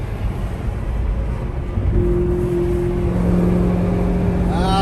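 Katech Stage 4 Corvette ZR1 engine in track mode, a steady deep exhaust drone that swells into a louder held tone midway, with a rising rev near the end.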